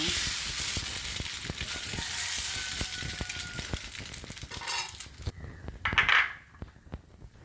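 Dosa batter spread over a hot pan sizzles steadily up close with faint scraping, then the sizzle drops away near the end, leaving a brief louder clatter and quiet.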